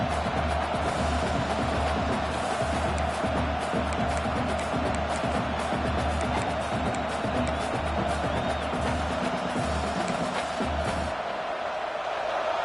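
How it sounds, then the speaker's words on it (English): Packed football stadium crowd roaring and cheering at full throat, a dense continuous wall of noise that fills the space from start to finish. "This crowd, full throat, splitting the eardrums and letting them know it's going to be a long day."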